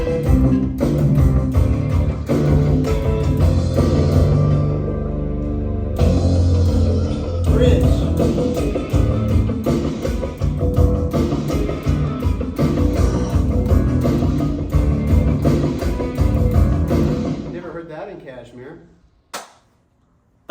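A bass guitar played through MIDI pickup sensors drives a loud, dense synthesized part with thick low tones and punchy attacks for most of the stretch, then fades out near the end.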